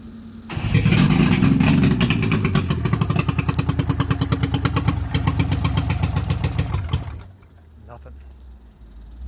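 An old motorcycle engine, fed badly degraded, tar-like gas and firing on only one or two cylinders, runs loud and close in a rough, uneven, pulsing rhythm for about seven seconds, then cuts out to a low background.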